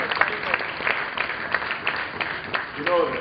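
An audience at a Rotary district event breaks into dense, steady applause, many hands clapping at once, with a voice rising over it near the end.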